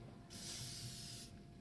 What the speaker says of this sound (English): I'll spray the inside of the cylinder walls.